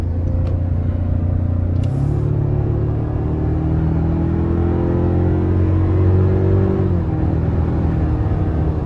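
A 2024 Toyota Tacoma's 2.4-litre turbo four-cylinder hybrid engine drones steadily and climbs in pitch as it accelerates through gear changes, loud and close, with a low rumble throughout.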